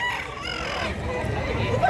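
A rooster crows close by, a loud drawn-out call over a clucking flock and background chatter from a rural market in Mantalungon, Cebu.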